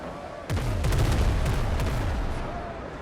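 A ship's cannons fire in a naval video game with a loud burst of booming shots, several rapid blasts rolling into one another and then fading into a low rumble.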